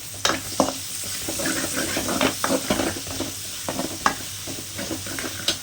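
Ginger garlic paste sautéing with country chicken in a village-style curry pot, a steady close sizzle broken by scraping stir strokes and occasional sharp utensil knocks against the pan.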